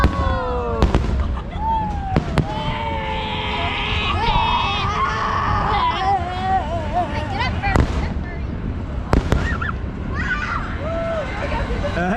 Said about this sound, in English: Got fireworks while we're on the Barnstormer.